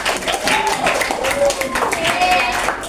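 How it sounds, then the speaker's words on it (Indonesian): Steady applause from a class of students fills the classroom, a continuous patter of many hands clapping for a few seconds with some voices mixed in. "Tepuk tangan dulu untuk kawan-kawan."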